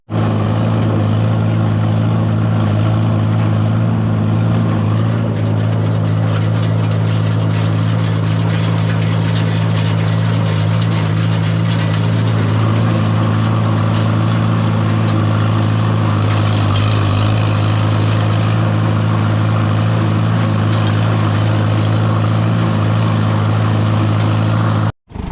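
A tractor engine runs steadily on a hay farm during second-cutting haymaking, a loud, constant low drone that holds at the same pitch for the whole stretch with no talking over it.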